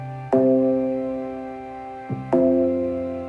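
A synth track playing back in music software, two sustained bright tonal notes each struck sharply and left to ring and fade, the second entering about two seconds after the first, with no talking.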